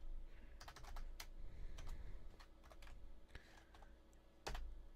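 Steady typing on a computer keyboard, a run of close, crisp key taps with a few louder strokes and short pauses, heard alone over a low room hum.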